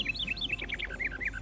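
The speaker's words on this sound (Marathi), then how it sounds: "खूप सारे पक्ष्यांचे आवाज येत होते" Birds calling in a mangrove forest in Ratnagiri, Konkan: a quick series of bright, high chirps and warbling notes, fairly clear and close, with no speech.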